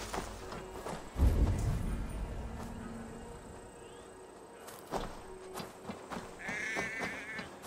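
Sheep in the video game Assassin's Creed Valhalla, an occasional faint bleat amid quiet outdoor ambience, with a dull thump early and soft footstep-like movement.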